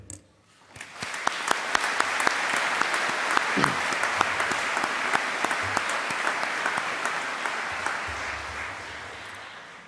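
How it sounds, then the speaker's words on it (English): A crowd at a University of Manchester graduation ceremony breaks into sustained applause, steady and full for several seconds, filling the room with dense clapping. "I ask you to join me in applauding them."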